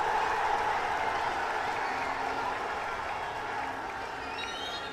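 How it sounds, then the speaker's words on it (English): A large crowd at a South Asian club football match in Bangladesh roars with a dense, steady wash of cheering and applause, fairly loud and continuous throughout. "Look at the cheer from the crowd."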